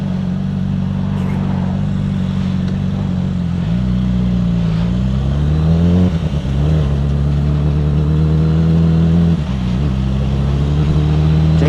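A QJMotor SRK450RR motorcycle roars close and loud through its exhaust, revving hard in repeated surges and dips during a burnout, the engine tone climbing and falling with no pause.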